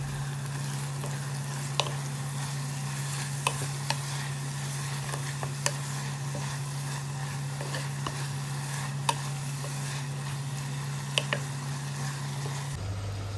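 Cardamom, cinnamon and cumin sauté in a hot pan for chicken curry, giving a steady sizzle with occasional sharp clicks from stirring.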